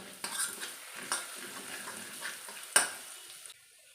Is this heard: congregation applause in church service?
no